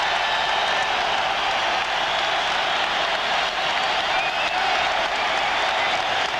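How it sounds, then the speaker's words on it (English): A packed Chicago Stadium crowd roars continuously as the Bulls take the court for the 1992 NBA Finals against Portland, a loud, unbroken wall of cheering and clapping. "Crowd here at Chicago Stadium roaring its appreciation as the Bulls take the court"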